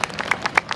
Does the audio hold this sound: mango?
no